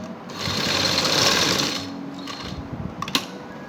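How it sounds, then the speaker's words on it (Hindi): A sewing machine stitches a shirt button placket in a fast, steady whir that slows and stops, followed by a few light clicks and handling sounds. "अब दूसरी साइड पर सिलाई आएगी।"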